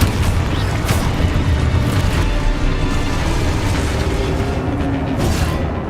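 Spells such as Confringo burst in Hogwarts Legacy, a dense run of booming blasts and rumbling impacts that overlap continuously at close, loud level without speech.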